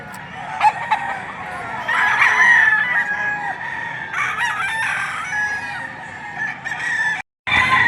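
Chickens and roosters at a Philippine poultry market crow and cluck repeatedly, several birds overlapping near and far, with a brief break near the end.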